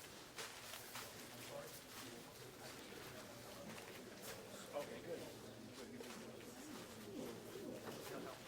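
Pigeons coo softly at a tail lacing seminar for birds, their faint calls rising now and then beneath people talking in a busy room.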